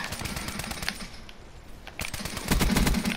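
Dense, rapid automatic gunfire in the Call of Duty: Black Ops III video game, continuous rattling bursts that grow heavier toward the end, with no talking.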